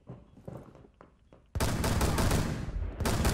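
SMG fire in the video game Rainbow Six Siege: a few faint distant shots, then a loud sustained automatic burst close by that cuts briefly and resumes.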